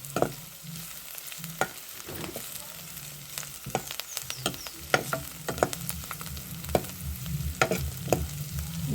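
Carrot pulihora cooks in a pan, with a steady sizzle under irregular scraping clicks of a spoon stirring the rice close by.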